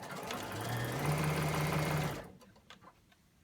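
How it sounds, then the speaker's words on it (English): A sewing machine stitching fabric for a scrub hat, a quiet, rapid mechanical whir that runs about two seconds and then stops, leaving faint handling noises. "continue to sew"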